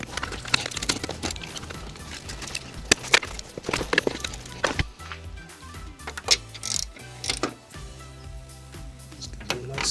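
A hand ratchet clicks in quick runs, close by, tightening bolts through the slam panel of a wrecked Honda Civic, with clanks of metal between strokes.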